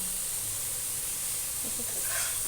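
Okra coated in a spice paste fries in a pan with a steady close hiss and sizzle, a few faint stirring scrapes showing toward the end.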